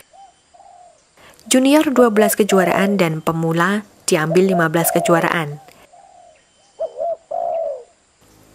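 Zebra doves (derkuku) at a bird-singing contest give soft, short coos at the start and end, while someone speaks loudly over most of the stretch.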